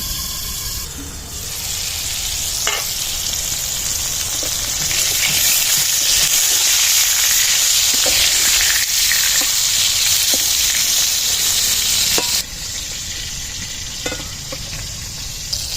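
Pointed gourd (potol) frying in white oil in a kadai, a steady close sizzle with stirring scrapes and a few clicks, continuous throughout with no talk.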